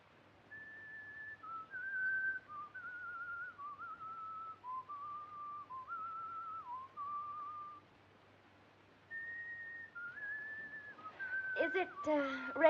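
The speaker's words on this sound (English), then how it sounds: "That tune you are whistling, sir, it is an English tune, isn't it?" A man whistles a melodic English tune, soft wavering phrases in a quiet room with a brief pause midway, followed by faint rustling at the end.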